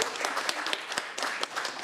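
Dense, steady applause from an audience at a conference session fills the whole stretch, many hands clapping at once with small swells and no voices.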